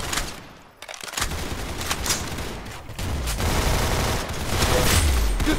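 Rapid gunfire in a shooter video game, with dense bursts of shots and booms fairly loud against continuous battle noise, no voices.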